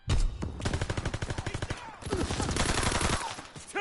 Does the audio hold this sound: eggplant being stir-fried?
no